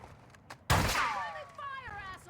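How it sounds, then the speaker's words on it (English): A burst of gunshots in a video game, one loud close crack followed by a ringing, descending tail, with a few softer pops before it. "Okay, I heard shots over here."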